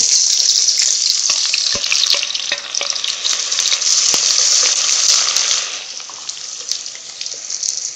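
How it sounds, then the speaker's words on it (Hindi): Onions fry in hot oil in a pot for mutton aloo gosht, giving a loud, steady crackling sizzle that runs the whole time and eases slightly toward the end, with no talk. "देखिए तेल गर्म हो चुका है, उसमें हम सबसे पहले करेंगे प्याज अपने लाइट ब्राउन"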